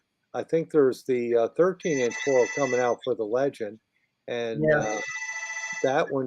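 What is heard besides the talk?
telephone ringing in a condo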